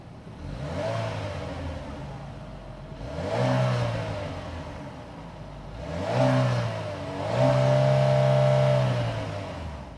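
The 1.5-liter turbocharged four-cylinder in a 2025 Chevy Malibu LT Redline Edition idles and is revved three times in quick succession, each rise and fall distinct and close, with no one talking.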